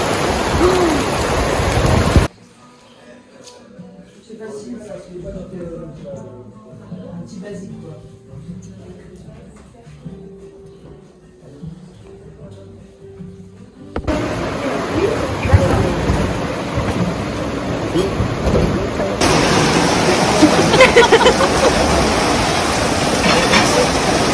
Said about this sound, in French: Mais c'est quoi ce déluge là?